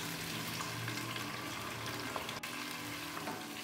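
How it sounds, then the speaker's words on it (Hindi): Garlic ginger paste fries with browning onions in a pan, a dense continuous sizzle with occasional stirring scrapes and one brief sharp click. "इसे हम प्याज के साथ हल्का सा भून लेंगे।"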